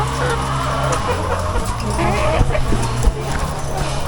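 Chickens on a poultry farm clucking close by, many birds murmuring and calling at once in a dense, continuous clamour with a few louder clucks standing out.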